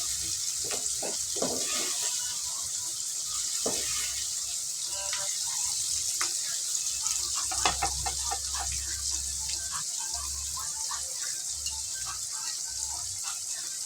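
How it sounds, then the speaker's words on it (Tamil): Onions and garlic fry in a tempering of fenugreek and mustard seeds for a chickpea curry, giving a soft, steady sizzle with scattered faint crackles and light clinks, fairly quiet throughout. "வெந்தயம் கடுகு எல்லாம் போட்டு தாளிச்சிட்டு வெங்காயம் போட்டிருக்கோம்மா"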